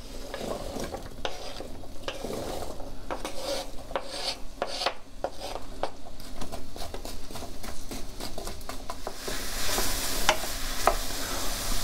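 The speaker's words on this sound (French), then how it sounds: "On va faire revenir nos pommes." Apples frying in melted butter in a pan, giving a steady close sizzle with scattered crackles and pops that grow a little denser toward the end, with no talk over it.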